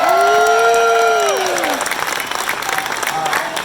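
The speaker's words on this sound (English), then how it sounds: "Give yourself a round of applause." Crowd applause with some cheering at a live casino-themed event in Detroit, filling the room as a bright musical tone fades out at the start.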